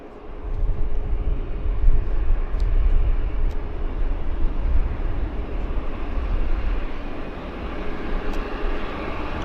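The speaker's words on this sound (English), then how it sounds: "We've got a Q400 on approach, guys." A Q400 turboprop airliner on approach to Vancouver airport, a continuous broad engine roar heard from a distance that swells and holds steady throughout, with no talking.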